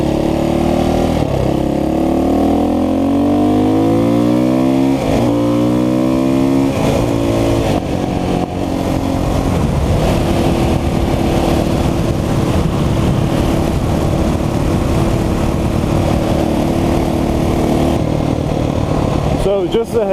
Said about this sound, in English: rolling around in my fucking Chevy, whatever, what is it, Chevy Tracker?